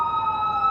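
An emergency vehicle siren wails outdoors in a steady, sustained tone at moderate distance, filling the moment without any talking.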